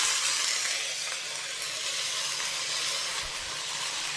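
Garam masala spices frying in hot oil, giving a steady, loud, bright hiss and sizzle that holds evenly from start to finish with no talking.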